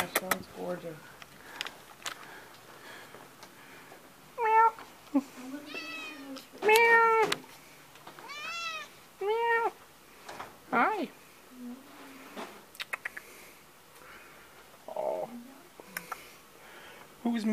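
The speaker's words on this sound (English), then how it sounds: "Who's meowing over here?" Kittens at a humane society meow repeatedly in short, bright calls scattered through the clip, some close and loud, with a person cooing and talking between and over them.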